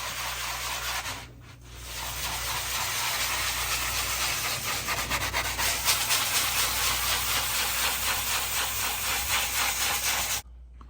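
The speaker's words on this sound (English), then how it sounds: "We gotta just sand it down and go from there." A concrete countertop is sanded with a steady, loud abrasive hiss that runs nearly unbroken for about ten seconds, with a short dip early on and an abrupt stop at the end.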